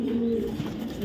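Young racer pigeons coo with a low, steady droning tone, close and continuous for a brief moment.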